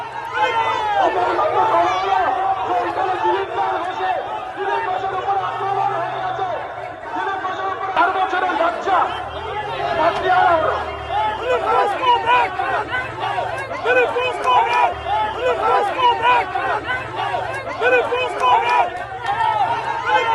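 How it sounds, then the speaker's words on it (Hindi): A large crowd chants political slogans at an election event in Bhavanipur, a loud, dense wall of shouting voices and babble that carries on without a break. "सुन लेते हैं वहां पर जो भीड़ क्या नारे लगा रही है।"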